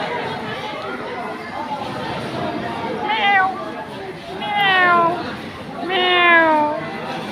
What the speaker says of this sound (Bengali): সেই বিড়াল আসলে সুন্দর অনেক সুন্দর বিড়ালটি মিনু